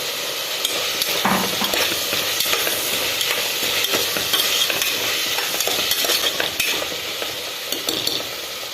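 Tomatoes stirred into a hot frying pan with curry leaves and coriander for Kerala-style vegetable kurma, a steady loud sizzle and frying crackle with scraping stir strokes throughout, no talking.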